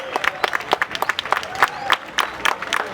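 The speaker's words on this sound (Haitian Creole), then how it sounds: "Vous allez vous tenir debout pour applaudir ce spectacle de qualité" Applause from an audience at an outdoor classical music concert in a town square in Cap-Haïtien, a dense run of clapping with scattered voices over it, fairly loud and close.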